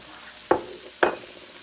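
Green onions are stirred into sizzling shrimp fried rice, two sharp spatula scrapes against the pan half a second apart over a soft frying hiss.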